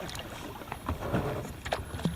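Kayak paddling on the Yadkin River, with soft water splashes and paddle strokes at an irregular rhythm over light wind noise and steady background.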